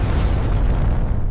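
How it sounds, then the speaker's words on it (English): A deep, loud explosion booms as a sound effect for colliding neutron stars in a kilonova, a dense rumbling blast that fills the brief moment and then starts to fade. "When they collide, they create a kilonova, an explosion of spectacular power."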